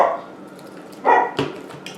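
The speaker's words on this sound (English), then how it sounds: "Excuse me, that's the dogs." Dogs barking in a home kitchen, a couple of sharp close barks in quick succession with no talk.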